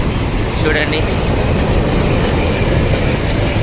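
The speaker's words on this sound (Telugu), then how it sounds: "ట్రైన్ వెళ్తుంది పక్కన నుండి" A train passes close by near a railway station in Sweden, a loud, steady rumbling roar that fills the whole moment while a voice speaks briefly over it.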